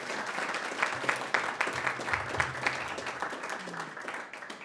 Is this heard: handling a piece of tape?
no